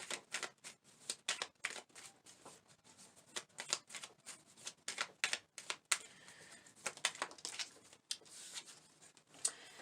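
Tarot message cards are shuffled by hand in quick, soft riffling bursts, close and quiet, with short pauses before a card is pulled.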